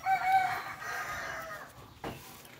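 A five-month-old rooster crows once, a long strained call at moderate distance, followed by a brief clucking sound near the end.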